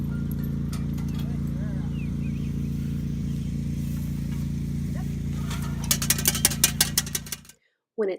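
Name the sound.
horse hooves clip-clopping on road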